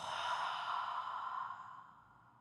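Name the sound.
forceful exhale through the mouth in yoga breathing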